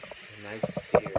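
Ribeye steak and scallops searing in a hot pan, a steady close sizzle with soft scraping and a few clicks near the end, a short spoken phrase briefly over it.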